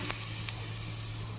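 Upma rava semolina toasts in a pan over low heat with a faint, even hiss and a couple of soft ticks, steady and close throughout.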